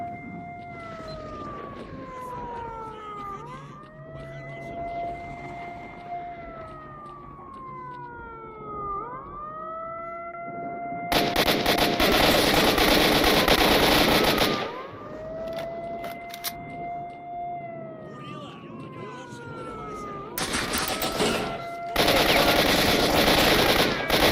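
Video-game gunfire in Stalker Enhanced Edition: two long, loud sustained bursts of automatic fire break in over a wailing, rising-and-falling siren that runs throughout.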